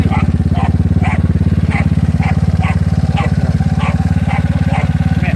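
A GY6 scooter engine fitted with an OKO PWK 30mm carburetor runs at a steady, even idle with a rapid buzzing putter and a regular ticking tap about twice a second. It is close and loud, with no talk over it.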